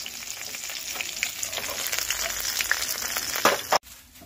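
Pond-caught koi fish fry in oil in a wok, making a continuous close crackling sizzle with a brief louder burst just before it cuts away.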